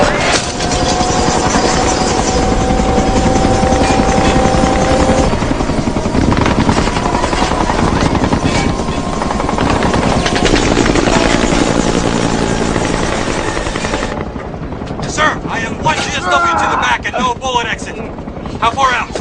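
A helicopter flies in an action movie rescue scene, its loud continuous rotor thump and engine roar persisting throughout, then thinning toward the end as voices talk over it.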